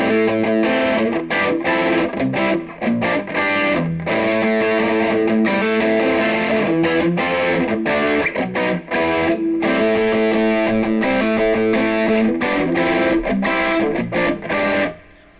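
Electric guitar through distortion, a Lamsam P90-style pickup in the bridge position, chugging a riff in dense, loud chords that drive steadily with brief gaps before ringing out at the end.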